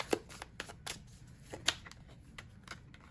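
Tarot cards being shuffled and drawn for a Cancer reading, with a few sharp, quiet card snaps and flicks spread across a soft, otherwise hushed background.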